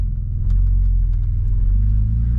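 An Audi S4 with a freshly refreshed engine on its first drive, its low, steady rumble heard from inside the car with a slight rise in pitch partway through.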